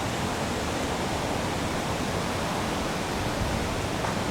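Water flowing over a small dam in a park at Knoxville's former World's Fair site gives a steady, broad rushing wash, constant and close, with no voices.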